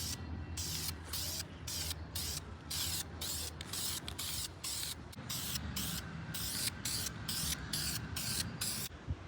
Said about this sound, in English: So we're gonna spray this, and then we'll show you the after.